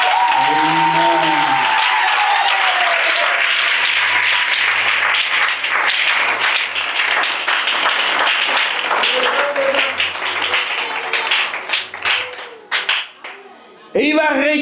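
A church congregation breaks into loud, sustained applause that fills the room, with voices calling out at the start and low sung tones underneath. The clapping gradually thins out and fades toward the end.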